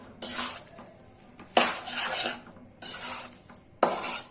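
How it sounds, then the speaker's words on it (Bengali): Pasta being mixed and mashed with spices in a pan for a homemade pasta dish, with repeated scraping and clattering strokes of a utensil against the cookware in bursts, close and moderately loud, with no talk. "এখন মশলার সাথে পাস্তাগুলো ভালো করে বেটে নিচ্ছি।"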